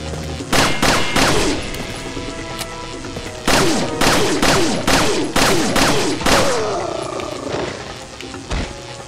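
Handgun fire in the Resident Evil 4 video game, loud close shots in rapid bursts with echoing tails, mixed with growling enemy roars and brief pauses between volleys.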